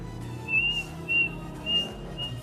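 A person imitates a cricket by whistling inward, three thin, high, steady whistle tones evenly spaced about half a second apart against a low background hum.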